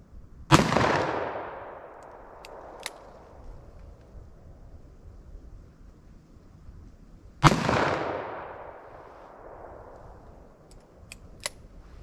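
Two loud pistol shots from a .45 Super firing Underwood hard cast rounds at a target, about seven seconds apart, each a sharp crack trailing into a long outdoor echo, with faint clicks between and no speech.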